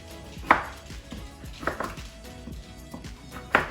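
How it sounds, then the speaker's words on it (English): A sharp kitchen knife slices vegetables for a fall pork tenderloin dish into half-inch pieces on a cutting board, with several distinct close chops spaced irregularly and quiet pauses between. "Take your knife, cut them into about, I'd say close to a ½ an inch wide."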